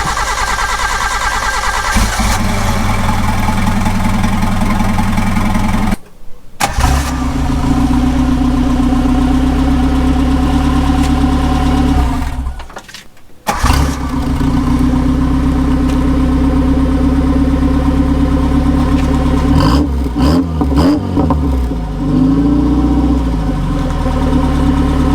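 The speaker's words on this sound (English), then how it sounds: "Let's get right into the exhaust notes so you guys can hear it." Suzuki Samurai with a header, catalytic converter and muffler, its exhaust idling steadily and revving up and down, loud and close with two brief cuts; no talking.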